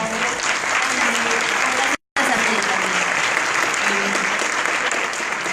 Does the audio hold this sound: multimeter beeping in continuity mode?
no